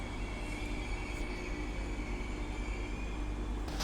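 A train at Manchester Victoria station on a Northern service, its broad steady rumble with faint wheel squeal filling the platform continuously, with no voices.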